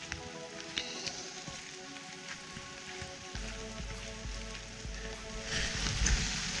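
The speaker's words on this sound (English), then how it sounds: "It's starting to rain a lot harder right now," Steady rain falls on a forest trail in Puketi forest, Bay of Islands, New Zealand, a soft constant patter that thickens and grows louder partway through, with faint scattered drips.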